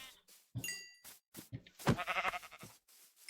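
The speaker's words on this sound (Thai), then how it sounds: "เราต้องฆ่าแกะนะทุกคนฆ่าแกะ" Minecraft sheep bleat several times in quick succession, loud and nearby with no talk, over game sound effects that include a brief chime-like ping.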